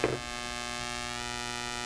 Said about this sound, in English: This is the Giandel power inverter with remote control.